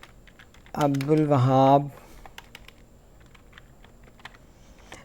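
Computer keyboard typing while writing Python code, a scattered series of light, close key clicks following a short spoken word, continuing softly on their own.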